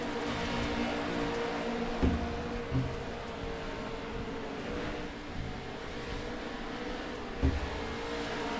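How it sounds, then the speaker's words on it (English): Pro 2 Lites race cars roar around a track in a steady engine drone with occasional faint thuds, no voices heard. "Eric all over the back bumper of Addison."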